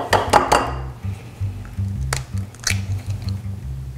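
An egg yolk drops into a bowl while eggs are separated for chocolate fudgesicles. A few soft, wet plops and squishes land close by over a quiet low background hum.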